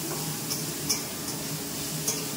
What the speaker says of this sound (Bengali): সবজিটাও ভাজা বসিয়ে দিয়েছি।